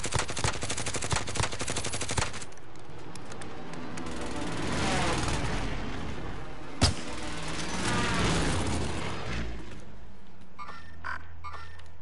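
Enemy gunfire in the battle royale shooter Warzone, heard as rapid bursts of shots over a dense game soundscape, with a sharp crack near the middle and quieter ambience toward the end.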